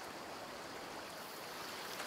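River water flows steadily in A Plague Tale: Requiem, a soft continuous rushing wash with no breaks and no voices.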